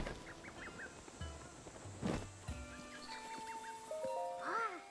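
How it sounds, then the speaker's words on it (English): A chicken in the video game The Legend of Zelda: Breath of the Wild gives several short clucks and squawks, scattered over a few seconds against quiet game ambience and tonal music. "Because I'm not allowed to get that chicken"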